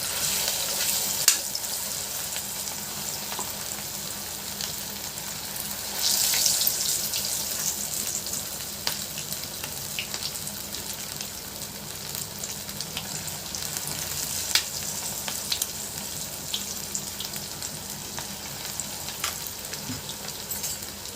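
Chicken pakodi deep fries in hot oil with a steady, dense sizzle and crackle that runs throughout at moderate loudness, dotted with occasional sharper pops and no talk.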